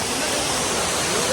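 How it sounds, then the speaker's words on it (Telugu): Kudiya waterfalls in Andhra Pradesh rush steadily, a dense broad roar of falling water close by, unbroken through the short stretch. "కుడియా వాటర్ ఫాల్స్ అన్న"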